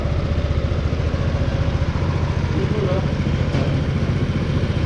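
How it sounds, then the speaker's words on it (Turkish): A used motorcycle engine, warmed up, revs close by with a rapid, rough pulsing beat, holding a fairly steady pitch throughout, while a voice is faintly present. "Tekrar gaz veriyorum."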